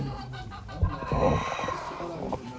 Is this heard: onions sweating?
no